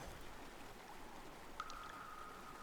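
A river flows steadily in the video game Mind: Path to Thalamus, a soft, continuous wash of running water heard on its own with no talk.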